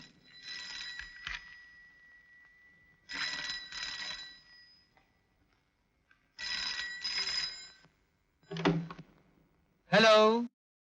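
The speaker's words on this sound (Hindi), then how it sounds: "घंटी बज रही है" Old telephone bell ringing in a 1970s Hindi film scene, in three long bursts of trilling rings separated by silent gaps, followed by voices speaking.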